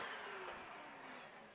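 A vacuum cleaner runs during a live maker stream, a loud, steady whooshing roar with a slowly drifting motor whine, continuous and close for the whole short stretch.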